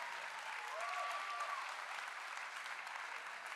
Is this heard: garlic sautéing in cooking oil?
no